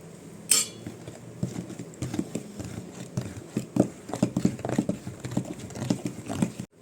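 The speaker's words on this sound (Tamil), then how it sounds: "இப்போ நல்லா மிக்ஸ் பண்ணுவோம்" A spoon stirs wheat flour into eggless strawberry biscuit dough, giving soft irregular scraping and light taps against the bowl, fairly faint and close, with one sharp clink near the start.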